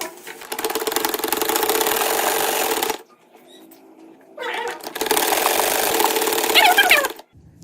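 Sewing machine stitching along the edges of bias-cut fabric for a boat neck blouse, two sustained whirring runs of several seconds broken by a quiet gap, close and loud.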